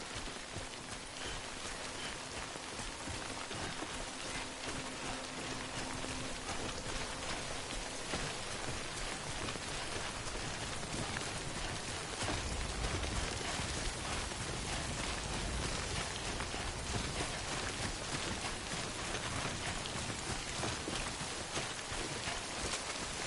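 Steady, dense rainfall in the video game Death Stranding, an unbroken hiss of drops on surfaces that runs the whole time, close and even, with no voices.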